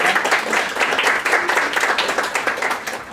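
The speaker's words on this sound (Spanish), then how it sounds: "Un fuerte aplauso, por favor," An audience at a lecture on women's political and electoral rights gives a speaker a loud round of applause, dense clapping holding steady throughout.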